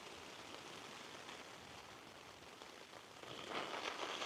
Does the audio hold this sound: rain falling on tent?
yes